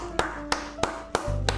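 Several separate hand claps, evenly spaced and loud against a low background hum, followed by a steadier droning tone near the end.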